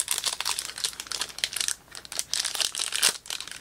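Small trading card pack wrappers being torn open and handled, giving steady close crinkling and crackling with brief pauses.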